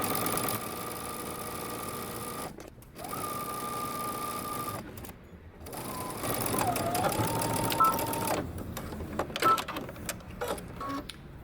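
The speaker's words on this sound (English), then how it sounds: "we're going to stitch our side seams using 5/8 of an inch seam allowance" A sewing machine stitches the side seams of cropped leggings, running in loud, steady bursts with short pauses between runs and a slower, uneven stretch toward the end.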